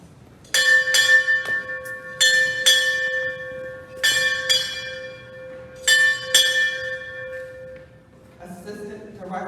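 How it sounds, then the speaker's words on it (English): A ceremonial ship's bell sounds eight bells in paired rings, four pairs of clear metallic chimes with ringing decay, followed by a brief rustle at the end. "8 bells."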